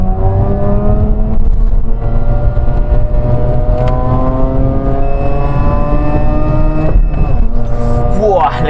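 A Mazda RX-8 pulls hard in second gear from low revs, its engine note climbing steadily in pitch over several seconds with a brief shift-like dip near the end, loud and close under ongoing talk.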